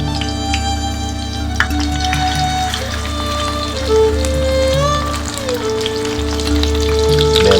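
Large, fatty chicken seekh kebabs frying on a high flame, giving a loud, continuous sizzle and crackle with scattered pops, heard up close with no one talking.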